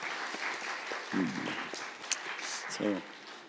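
A church youth congregation applauding, a soft, continuous patter of clapping that fills the room, with a voice speaking briefly over it.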